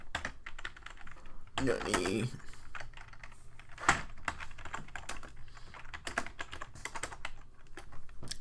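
Rapid typing on a computer keyboard, close and clear. The key clicks run in uneven bursts with a louder clatter early on, over faint background hum and a brief voice.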